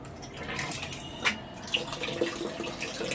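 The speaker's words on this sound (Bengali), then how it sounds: "এইখানে কলটা খুলে দিই।" A tap on a rooftop, left among scattered induction and gas cookers, runs with a steady close-up gush of water, with a few sharp knocks and splashes breaking through the continuous flow.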